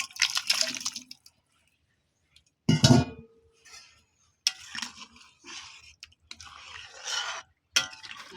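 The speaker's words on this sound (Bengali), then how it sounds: "দেখুন জল গরম হয়ে গেছে, ওলটা ঢেলে দেবো" Chunks of elephant foot yam tip into hot water in a wok with one loud splashing burst, framed by scattered wet clatters and stirring knocks of the pan in a quiet kitchen.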